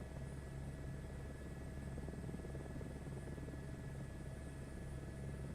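A steady, droning aircraft engine hum from Flight Simulator 2024 runs continuously and evenly, with a constant low buzz and no talk.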